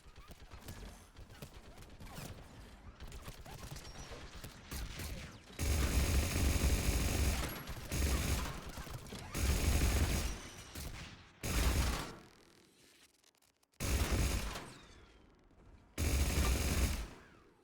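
Automated turret gunfire in the video game Mass Effect: loud bursts of rapid fire in several separate volleys, each a few seconds long, broken by short pauses, over steady game background noise.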